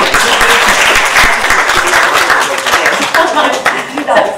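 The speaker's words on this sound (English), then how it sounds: "I think she deserves a round of applause for that." A crowd applauding steadily, dense clapping from many hands filling the whole stretch at a loud, even level.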